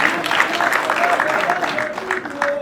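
Steady applause from a wedding crowd, a dense even patter of many hands clapping that carries on throughout at moderate loudness.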